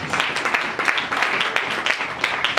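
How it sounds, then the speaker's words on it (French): A church congregation applauds together, a steady dense patter of many hands clapping close by, with faint rhythmic accents running through it. "Acclamons très fort pour le Seigneur."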